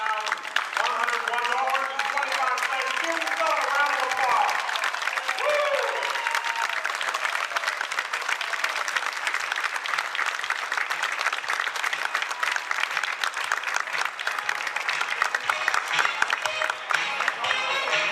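Crowd at a United Way campaign announcement in Kingsport applauding and cheering after the fundraising total is revealed, long loud continuous clapping with whoops and voices over the top.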